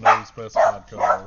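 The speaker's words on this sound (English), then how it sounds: "I'm sorry about the dogs in the background." Several dogs bark in the background in short bursts, partly under a voice reviewing cards indoors.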